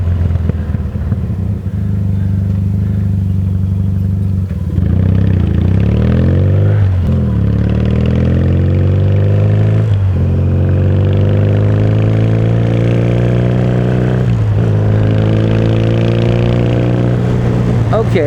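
A 1977 Yamaha XS650D motorcycle engine revs loud and close on a ride, its low steady drone rising and falling through repeated throttle sweeps and gear changes.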